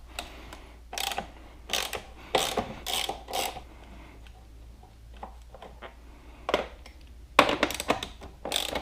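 A ratchet and socket turn a bolt on a Can-Am Spyder RT Limited rear air suspension compressor, giving short bursts of clicking pawl strokes with quiet gaps between them against a low background hum.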